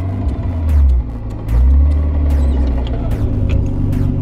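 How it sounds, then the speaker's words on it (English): A modified former drift car being driven on the street, its engine rumbling loudly with a steady mechanical drone and faint high whine from the gearbox running through the gears. "but can you hear my gearbox?"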